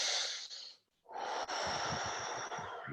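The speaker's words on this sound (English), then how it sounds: "Breathe in." Deep breathing during a breathwork session, close and airy: a rushing breath tapers off, and after a short gap a long, forceful inhale rises and holds steady, with no voices.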